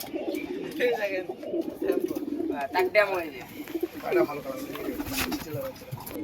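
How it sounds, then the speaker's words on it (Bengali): Punjabi pigeons coo close by in low, throaty, repeated phrases that rise and fall over a few seconds. "হেভি সুন্দর পায়রা পাঞ্জাবি পায়রা"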